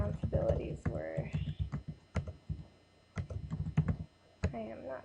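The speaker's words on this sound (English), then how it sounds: "I am not typing very well." Clicky computer keyboard typing in irregular bursts, heard close up beneath a person speaking quietly.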